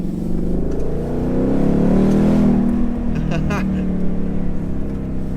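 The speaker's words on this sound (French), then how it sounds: "Le bruit du moteur est jouissif." A Ford Mustang V8 convertible driven on a snowy road, its engine droning and swelling into a deep rev before easing back, loud and close throughout.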